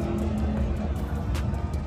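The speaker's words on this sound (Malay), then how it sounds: "Boleh dengar bunyi kereta tengah berlumba tu." Super GT race cars, GT300 and GT500 classes, racing around a circuit in Malaysia, heard as a steady engine roar from a distance, with crowd noise and some talk mixed in.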